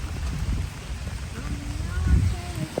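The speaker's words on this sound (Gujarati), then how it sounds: "ઓય હવે વરસાદ આવે." Rain falls steadily on the streets of Old Quebec City, with a soft wash of drops and low rumbling traffic in the background while people talk over it.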